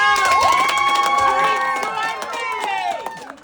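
Outback restaurant crew cheer and whoop for a staff member's 21st birthday, loud excited voices and shouts close by in a lively crowd, with clapping mixed under the cheering.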